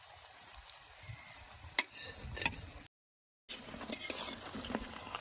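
Eggplant kofta frying in oil makes a soft, low sizzle, and a few sharp clicks of a utensil against the pan sound now and then. Partway through, the sound cuts to silence briefly, then the frying resumes.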